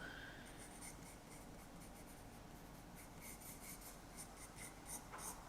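A pen scratches across paper while a small Sandshrew is being drawn, soft close-up scribbling strokes that come in short bursts and repeated dabs, fairly quiet and alone.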